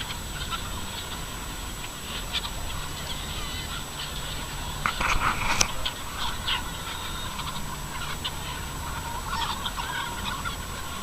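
A large flock of about 5,000 chickens clucks and squawks together in steady overlapping calls, with a few louder cries rising above the constant murmur.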